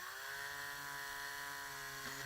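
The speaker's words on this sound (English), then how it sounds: "we'll drill straight through here with a smaller drill bit" A small drill bit boring through a tough plastic toy part, a steady high-pitched motor whine held evenly throughout with a slight pitch dip near the end.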